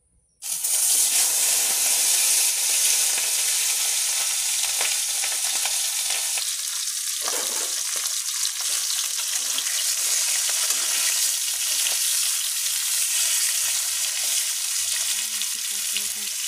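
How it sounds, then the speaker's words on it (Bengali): Fish frying in hot oil gives a loud, steady, dense sizzle that begins abruptly and carries on unbroken, with a brief utensil clink partway through and no talking. "মাছ ভেজে নেব"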